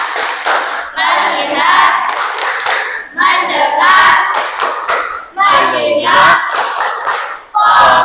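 Rhythmic hand clapping from a classroom group playing the 'tepuk fokus' clapping game, loud and close, in repeated bursts with short pauses, with children chanting words along with the claps.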